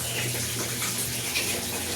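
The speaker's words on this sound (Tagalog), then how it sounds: "Buti malakas ang tubig ngayon." Strong water pours steadily into the tub of an automatic washing machine, a loud continuous gushing rush with no pauses.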